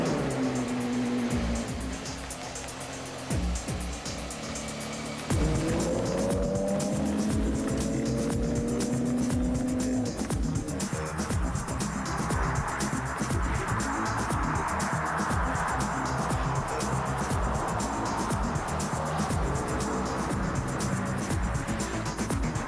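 A Porsche lapping a race track, its engine droning with rising and falling tonal sweeps as it works through gears, loud and steady throughout with a rushing wind and road roar.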